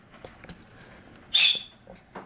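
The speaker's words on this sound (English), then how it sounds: "that whistling that you hear" A single high, thin whistle rises briefly out of quiet room background, lasting about half a second, with a few soft knocks and rustles around it.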